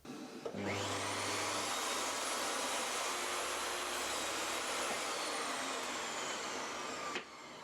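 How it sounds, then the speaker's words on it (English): A power saw cuts small pieces of treated wood for a hanging planter, giving one loud, steady whining roar that lasts about six and a half seconds and then stops abruptly, with no talking over it. "what I'm going to do is cut down some little bits of wood that can go into the corner"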